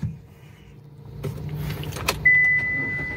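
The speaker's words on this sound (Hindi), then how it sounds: "अभी हम लोग क्या करेंगे, गाड़ी को स्टार्ट करेंगे" A car engine starts during a driving lesson on parking close behind another vehicle: a mechanical whir builds into a steady low idle hum, and a thin, sustained electronic chime rings over it near the end.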